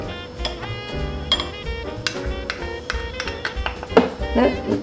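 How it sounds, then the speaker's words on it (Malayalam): Icing sugar and cornflour are stirred together in a bowl with a spoon for sugar lace. Light taps and clinks of metal against the bowl repeat irregularly, close and clear, and there is a brief patch of rattling near the end. "ഒന്ന് മിക്സ് ചെയ്യാം"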